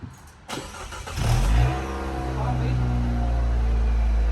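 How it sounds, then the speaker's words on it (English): A Fiat 500 engine cranks briefly and catches, then settles into a steady low idle hum that holds close and fairly loud to the end. "I'm gonna turn the car on"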